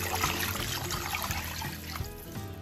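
Water pours into a pot of cow-foot soup with a brief, close, splashing trickle that lasts a few seconds and fades slightly at the end.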